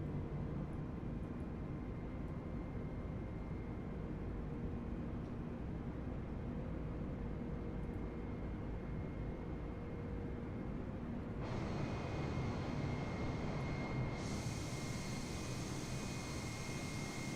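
An airliner's jet engines run at climb thrust in Microsoft Flight Simulator, on a flight from Liverpool to Paris. It is a continuous broadband roar that steps up louder and brighter partway through, with no talk.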